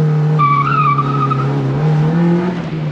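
An old Honda's engine held at high revs on a factory two-step rev limiter before a launch, with a steady droning tone and rising whine, loud and close.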